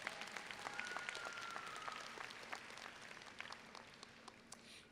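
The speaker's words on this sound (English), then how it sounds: "You all deserve a round of applause" Applause from a crowd at a high school graduation ceremony, steady dense clapping that holds for about five seconds at moderate level, with no speech over it.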